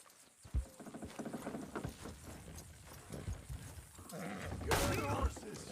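Horses' hooves clip-clop in Red Dead Redemption 2, a quick, uneven patter of steps beside a wagon. Voices talk over the hooves, and a louder rustle rises near the end.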